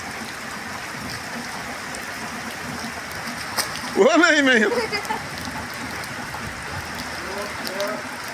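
Steady rain patters on a street in 45-degree heat, a continuous wash of drops, with a brief burst of children's voices and laughter partway through.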